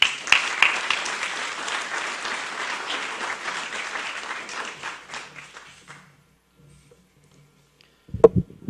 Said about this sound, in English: Another round of applause for Annette Romano